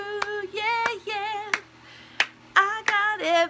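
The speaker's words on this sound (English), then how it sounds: "You know you're clapping." Several sharp hand claps ring out at uneven intervals, each a crisp crack, mixed with a woman singing or humming nearby.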